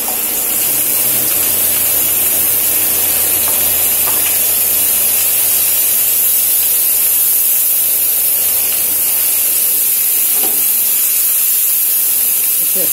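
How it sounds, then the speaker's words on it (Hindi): Chickpea greens hit hot fried masala in a pan, setting off a loud, continuous sizzling hiss that stays dense and close throughout, with faint clinks and stirring beneath it. "अब इसमें हम डालेंगे चने की भाजी"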